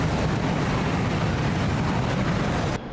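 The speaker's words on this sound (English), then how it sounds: "The Flaming Cliffs MiG-29 sounds are decent. You've got the basics: engine rumble, burner roar" A MiG-29 jet in DCS Flaming Cliffs gives a constant heavy engine rumble with a broad afterburner roar, loud and unbroken for almost three seconds before cutting off abruptly.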